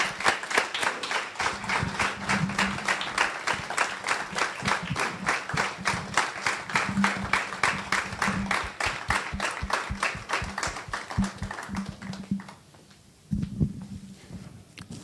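A church congregation claps loudly in welcome, sharp rhythmic hand claps in a fast regular beat over low sustained voices, fading near the end before a brief renewed burst.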